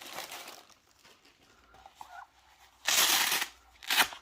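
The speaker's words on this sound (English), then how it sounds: "Let's open this bag." A plastic bag from a blood pressure monitor box is opened, with soft crinkling followed by two louder, close rustling bursts.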